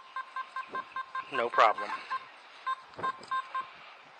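A Simplex metal detector sounds repeated short, evenly spaced electronic beeps as it picks up a gold-plated ring, with someone briefly talking over the tones partway through.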